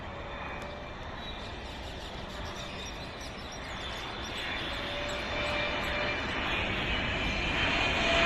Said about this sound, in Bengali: এই বিমানটি তিরিশ মিনিট পথ উড়ে সিলেট থেকে ঢাকায় অবতরণের জন্য এগিয়ে আসছে